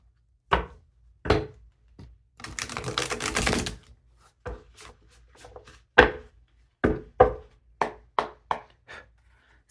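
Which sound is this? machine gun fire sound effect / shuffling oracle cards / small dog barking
shuffling oracle cards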